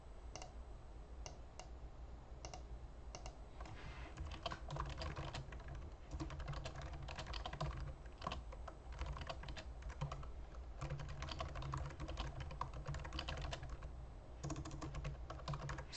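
Fingers type on a computer keyboard in steady, rapid clicking bursts with brief pauses, close and continuous, with no talking.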